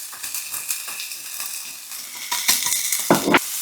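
Scallions, garlic and ginger sizzle in a frying pan in short crackling bursts, with clinks and scrapes of stirring, close and moderately loud.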